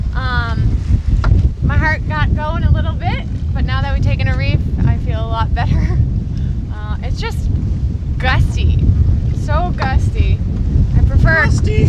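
Strong, gusty wind roars and buffets across the microphone on a sailboat throughout, with people talking over the rushing noise.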